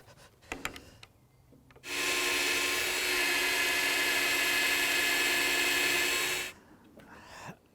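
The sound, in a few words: drilling with a twist drill bit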